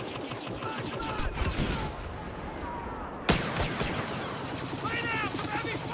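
Blaster fire in the Star Wars Battlefront video game, rapid bursts of shots crackling over a dense battle din, with a sharp loud crack midway and voices talking in the background.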